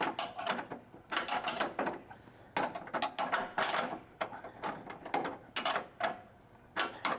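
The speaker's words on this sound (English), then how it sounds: "We got our bolt started, so why don't we get on to cranking that baby tight" A wrench tightens an upper control arm bolt in a garage, a series of close mechanical ratcheting bursts with short pauses between strokes.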